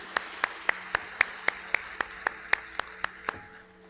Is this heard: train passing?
no